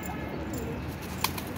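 Low, steady cooing of a pigeon kept for sale, a soft continuous murmur throughout with one brief sharper sound near the end.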